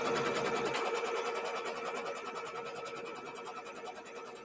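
A sewing machine stitches out the main square border of a quilt block, a rapid mechanical whirring that runs steadily and close up, fading slightly toward the end with no talk.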